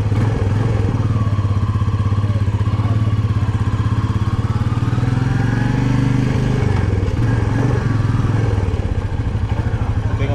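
A Harley-Davidson motorcycle on a short test ride around a building, its engine rumbling loud and close with a steady throb that rises and eases as it rolls along.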